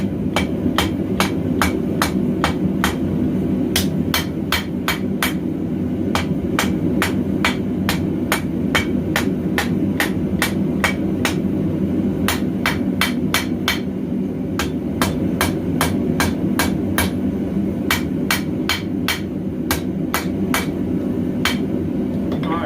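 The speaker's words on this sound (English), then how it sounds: "I'll hammer the distal taper in first." A hammer strikes steel over and over in a fast, steady rhythm, forging a distal taper into a clip point blade, sharp ringing blows close by above a low droning hum.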